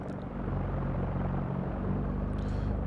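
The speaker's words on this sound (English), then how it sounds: "Get out of the way, damn silly prop plane" Steady droning propeller plane engine in the X-Plane 11 flight simulator, a constant low rumble holding at even loudness throughout with no talk.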